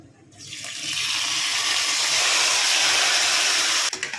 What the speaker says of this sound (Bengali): ঘি গরম হয়ে গেছে এখন দিয়ে দিচ্ছি গোটা গরম মশলা ফোড়নে এখন দিয়ে দিচ্ছি ম্যারিনেটেড চিকেনটা